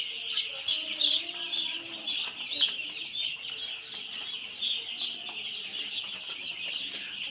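Broiler chicks in a poultry shed at night, giving a steady, dense chorus of high peeping that runs continuously at moderate loudness, with softer low chirps underneath and no talk.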